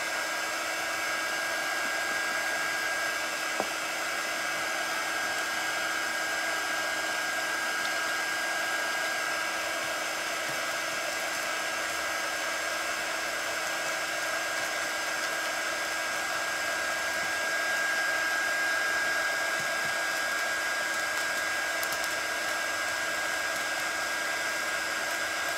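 A hair dryer runs steadily and close by for the whole stretch, drying Pentart crackle paste that has just been brushed on, a constant even whir with no pauses.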